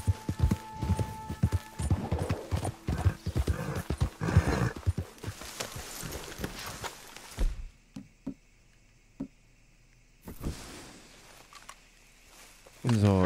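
Horse hooves clip-clopping in the video game Red Dead Redemption 2; a rapid run of close hoofbeats with a neigh, then slower scattered steps, while a person talks over it.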